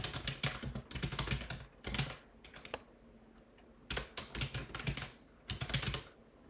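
Fingers type on a computer keyboard in quick bursts of clicking keystrokes separated by short pauses, close and fairly quiet, with no voices.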